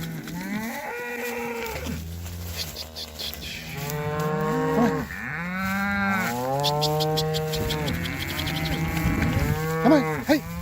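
Several cows moo loudly and repeatedly, long drawn-out lowing calls overlapping one another close by, with no talk.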